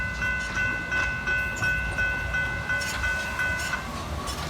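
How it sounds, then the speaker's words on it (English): A train rolls past steadily and continuously, a broad low rumble with faint ringing tones above it and a few soft rattling accents, heard alone with no talking. "I'm gonna wait for this train noise to stop."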